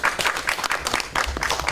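A short burst of audience applause at an indoor talk event on women's politics and gender equality, brisk and dense clapping from a crowd, moderately loud throughout.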